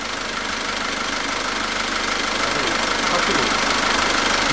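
A Korando Sports diesel engine idles freshly after a Motul 300V oil change, giving a constant, even hum and clatter that holds steady at moderate loudness without breaks.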